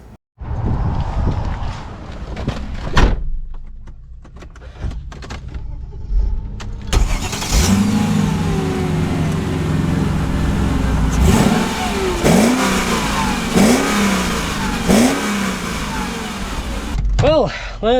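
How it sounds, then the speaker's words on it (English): A used Mercedes G500 G-Wagon starts up and pulls away, its engine turning over and then revving through several rising surges close inside the cabin, with a person speaking over it. "Well, let's set off in this G500."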